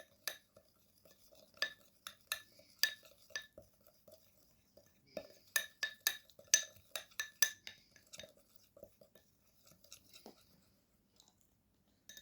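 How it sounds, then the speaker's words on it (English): Homemade teeth-whitening paste ingredients stirred in a small dish: a run of crisp, close clinks and scrapes of a spoon against the container in uneven bursts, fairly quiet, with no talking. "Mix well the ingredients"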